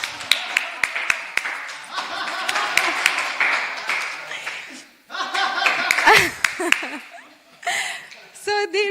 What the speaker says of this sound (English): Okay, let's do it one more time. So this time we will clap